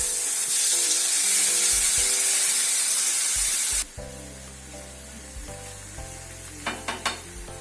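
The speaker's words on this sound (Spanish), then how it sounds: "El aceite está caliente, podemos echarle nuestra cebolla con zanahoria." Chopped onion and carrot hit hot oil in a frying pan with a loud, bright sizzle that drops abruptly partway through, then settles into a softer frying hiss with a few clinks and scrapes.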